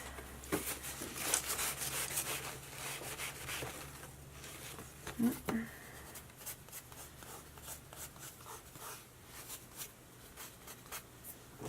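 A wet, clean brush rubs chalky residue off an acrylic painting surface, giving soft repeated scrubbing strokes, close and fairly quiet, busier at first and then thinning into sparser light rubs.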